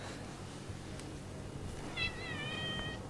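A cat meowing at a hotel room door on the island of Gili Air, a single drawn-out meow near the end over a steady background hiss.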